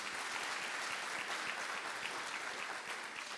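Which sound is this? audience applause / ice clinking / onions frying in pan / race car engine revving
audience applause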